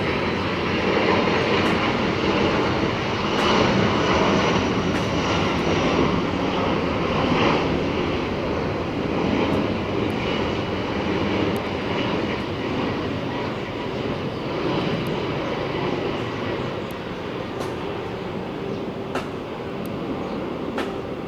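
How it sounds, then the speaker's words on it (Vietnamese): An Asiana Airbus A330-300 lands at Tan Son Nhat airport with a continuous broad jet roar. It is loud and steady throughout, with faint clicks scattered over the top. "Và mời mọi người chiêm ngưỡng hạ cánh của chiếc máy bay này"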